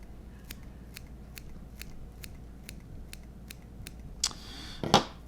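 Scissors trim pike or musky fly-tying materials up close, giving a steady run of about a dozen crisp, evenly spaced snips, then a couple of louder cuts at the end. No one speaks.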